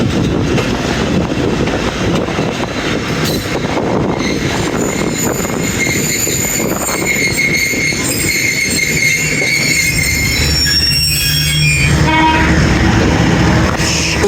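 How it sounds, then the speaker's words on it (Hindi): 38 Down Baba Fareed Express pulling into Lodhran Junction: a steady, loud rumble of rolling railcars with squealing wheels and rattling wagons, continuous throughout with a brief softer patch near the end. "लोधरा जंक्शन पहुंच गई जी हमारी। 38 डाउन बाबा फरीद एक्सप्रेस।"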